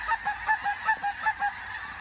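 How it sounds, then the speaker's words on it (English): Canada geese honk in a quick rhythmic series of about eight calls, fairly close and loud, during a goose hunt. "We got honkers working behind us."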